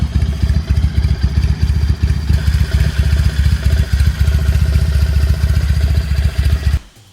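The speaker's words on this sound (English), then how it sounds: "The Laverda 1000, with its 981 cubic centimeter triple engine" A 1973 Laverda 1000 motorcycle with a 981 cc triple engine runs close by at a steady, loud, throbbing idle with mechanical clatter, then cuts off abruptly at the end.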